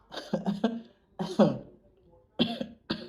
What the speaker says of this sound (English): Excuse me, I've got a cough.